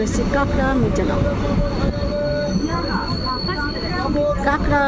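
Steady rumble of a train running along a rail line, wheels squealing and hissing as it approaches Kankra Mirzanagar station, loud and continuous with some voices in the background.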